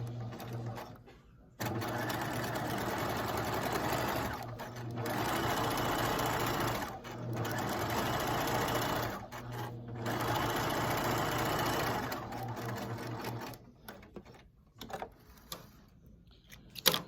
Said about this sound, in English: And here's my last row of stitching.